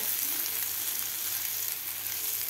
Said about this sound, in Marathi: आपल्याला असं हळूहळू त्याला परतून घ्यायचं आहे